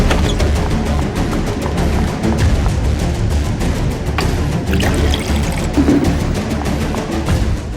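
Water pours steadily and loudly without pause, a continuous splashing stream close by with a few sharper clatters mixed in.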